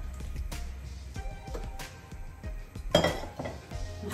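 A metal pot and lid are handled on the stove while berkoukes, an Algerian pasta dish, is being cooked. Several sharp clinks and knocks come at irregular moments, fairly close but quiet, with no one speaking.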